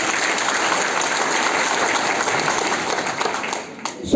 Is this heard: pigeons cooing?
no